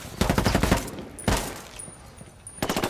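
Rapid automatic gunfire in Ghost Recon Wildlands, with dense bursts of shots at the start, another short volley near the middle and a final burst at the end, loud and close with no talk.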